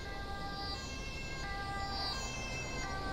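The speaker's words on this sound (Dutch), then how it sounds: "Gaan we even wachten op de ambulance" An ambulance siren in Grand Theft Auto V wails steadily as the vehicle arrives at a street scene, moderately loud and continuous over a busy background rumble.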